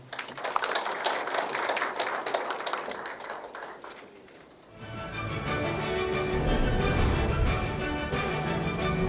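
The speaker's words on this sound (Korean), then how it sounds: "박수 부탁드립니다" Audience applause at a panel discussion on sports for disabled people, a dense steady clatter of many hands that swells after a quieter opening and stays loud to the end.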